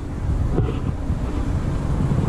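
Loud, steady wind buffeting the microphone on a street in El Calafate, a continuous low rumble with gusts and no clear talk.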